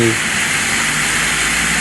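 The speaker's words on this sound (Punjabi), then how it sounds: "ਪਲੋਆਂ ਤੇ ਮਾਰ ਕੇ ਪਾਣੀ ਫੇਰ ਮਾਰਾਂਗੇ ਟਰੈਕਟਰ ਤੇ" A high-pressure water jet sprays steadily onto the plough of a Swaraj 853 tractor during washing, a continuous loud hiss with no breaks.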